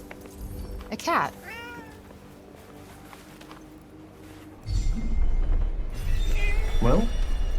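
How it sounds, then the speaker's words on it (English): A cat in the video game Forspoken meows twice, a rising-falling cry near the start and another near the end, with low rumbling ambience and speech-like game audio in between. "A cat."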